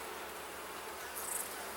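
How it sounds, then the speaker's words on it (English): Honey bees swarm around an open hive box, a faint, steady buzzing drone that holds evenly throughout with no voices. "A decent number of bees in this hive."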